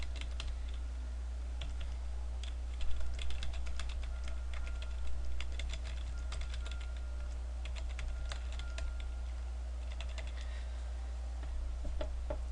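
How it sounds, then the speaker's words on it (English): Fingers type on a computer keyboard while building a simple web page, producing a quiet, steady run of close clicking keystrokes with occasional louder taps over a low background hum. "And let's go ahead and type something here."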